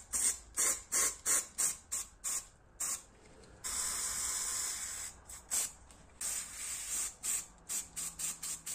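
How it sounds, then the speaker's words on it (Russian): Universal enamel paint sprayed from an aerosol can in a series of short hissing bursts, with one longer continuous spray in the middle, close and fairly loud with no talk. "Эмаль универсальный, пшикнув каждый по несколько раз"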